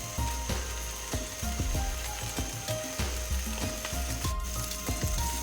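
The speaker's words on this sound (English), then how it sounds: "we're going to let these fire up some more. Let them get nice and charred up" Boston butt pork shish kebabs sizzle and char over the fire of a tiny camp grill, a close, steady crackle dotted with sharp pops and ticks throughout.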